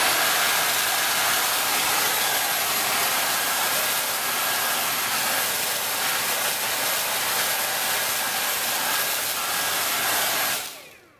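Dyson V8 Total Clean cordless handstick vacuum running on max power, a loud steady high-pitched whooshing whine that holds for about ten seconds, then cuts off abruptly.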